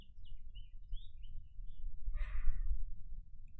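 Birds sing outdoors on a sunny day in a few faint, thin chirps and whistles. A louder, fluttery call comes midway over low wind or breath rumble.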